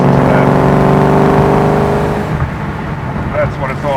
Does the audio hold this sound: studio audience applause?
no